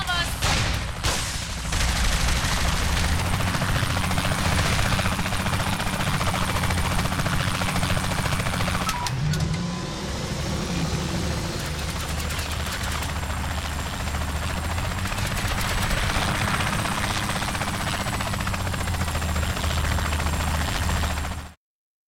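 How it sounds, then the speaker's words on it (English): A helicopter in the video game Saints Row The Third drones overhead with steady rotor thrum for most of the stretch, mixed with bursts of gunfire and explosions in a loud combat scene. "Helicopter above us!"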